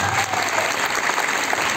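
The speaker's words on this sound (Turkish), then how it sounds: "Daha kuvvetli bir alkış hak etmiyorum bu adamlara." A crowd claps loudly and continuously at a singing competition in Erbaa, sustained applause with no voices over it.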